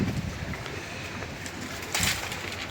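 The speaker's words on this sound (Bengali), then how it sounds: "এখন অনেক বাতাস আছে।" Strong wind gusts across an outdoor cooking spot, roaring steadily with a louder surge near the end.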